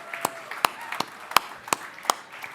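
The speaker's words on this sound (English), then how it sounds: "Let's give a warm round of applause to these guys who are coming to the stage" A handful of sharp, evenly spaced claps ring out at a slow, steady pace as guests walk onto the stage at an Estonian startup ecosystem fireside chat, with a faint murmur of voices between them.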